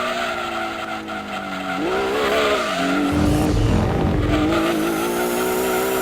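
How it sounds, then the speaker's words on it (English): A race car in Gran Turismo 2 revs hard under throttle, its engine note climbing in loud, continuous strains, with a burst of tire squeal and skidding midway as it slides before powering on again. "this car has got some stupid acceleration to it"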